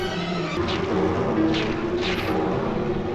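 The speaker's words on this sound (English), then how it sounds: "this helicopter scene is crazy" A steady mechanical drone with a low throbbing hum runs throughout, a helicopter's engine and rotors heard close and loud, in a scene from the Doctor Who serial "The Enemy of the World".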